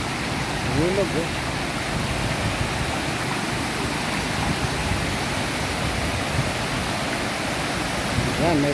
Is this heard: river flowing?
yes